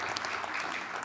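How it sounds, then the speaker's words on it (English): Audience at an indoor winter speaker-series talk clapping in a brief, faint, dense burst of applause. "he deserves a round of applause"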